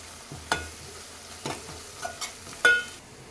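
Ginger paste and turmeric fry in a pan with a soft background sizzle, punctuated by four or five distinct spatula scrapes and taps, with no voices.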